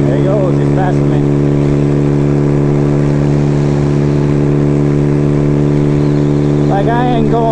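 Motor vehicles drone steadily on a windy road as a truck passes a motorcycle, the engine hum constant and loud with wind buffeting throughout.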